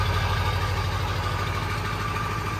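A pickup truck's 7.3 diesel engine idling on a wet morning, a steady low rumble with a constant even throb, close and loud throughout with no talking.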